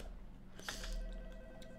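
A telephone rings in the Roblox game The Hotel Experience, a short electronic ring tone sounding once over a low steady game hum.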